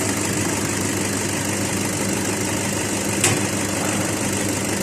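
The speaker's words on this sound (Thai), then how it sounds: "ตรงนี้ก็คือรอบเดินเบา ของเครื่องยนต์ที่ทำงานอยู่นะครับ" A four-cylinder four-stroke car engine idles up close with a steady, even low rumble and vibration, interrupted by one brief sharp click partway through.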